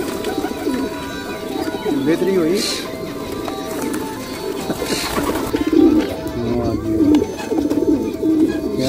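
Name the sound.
pigeons cooing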